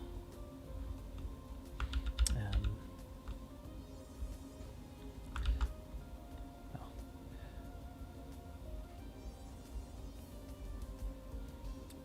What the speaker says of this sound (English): you can use the arrow keys plus, space bar.